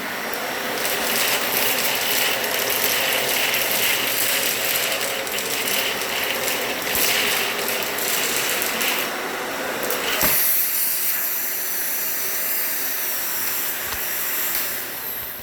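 A Dyson, Hoover or Miele vacuum cleaner runs steadily on a hard floor with its brush roll switched off, giving a continuous loud whirring hiss that changes tone briefly near the end, with no talking.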